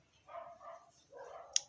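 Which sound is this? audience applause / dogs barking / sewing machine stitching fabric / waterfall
dogs barking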